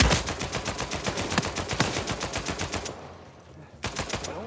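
Rapid automatic gunfire from an Uncharted 4 team deathmatch in Madagascar, a fast, even string of loud close shots that pauses briefly before a couple more bursts.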